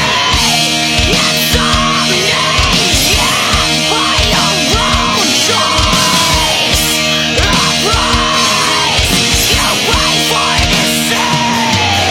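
A female vocalist screams hard over loud, dense heavy music with pounding drums and distorted guitars, the harsh yelled vocal phrases rising and falling throughout.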